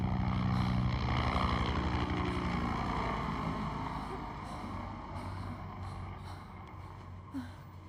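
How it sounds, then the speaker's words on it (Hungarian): Helicopter rotor in a horror film, a loud throbbing, chopping drone with low engine rumble and whine that stays steady and close before easing slightly toward the end. "Jön a helikopter!"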